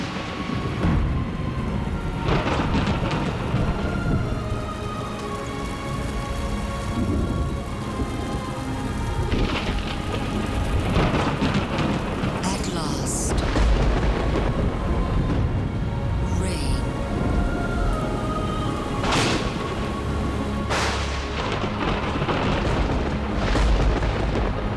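Steady heavy rain pours over the Kalahari desert while thunder rumbles and cracks at intervals, with deep low booms and sharp bright claps standing out against the continuous downpour.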